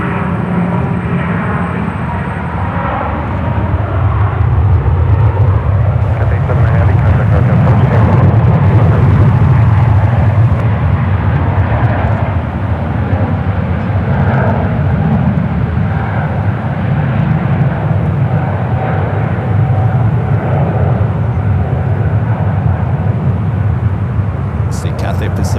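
Airliner jet at San Francisco International Airport, heard by plane spotters: a steady, loud, continuous engine roar sustained throughout, close and broadband, with no clear talk over it.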